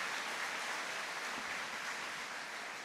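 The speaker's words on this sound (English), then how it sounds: "Everyone give our administrative team here at the high school a round of applause." Audience applause at a high school graduation ceremony, a steady wash of many hands clapping at moderate level, continuous and unbroken, with no voices standing out.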